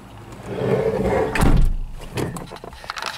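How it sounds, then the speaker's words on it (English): The door of a 1965 Ford Mustang Fastback resto-mod swinging shut with a single solid, close thump, set against a low rumble of background noise. "Very solid sound when you close."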